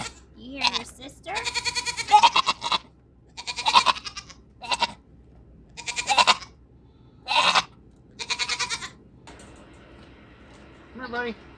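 A fainting goat bleats repeatedly in loud, wavering calls with short gaps between them, close by; no talking between the cries.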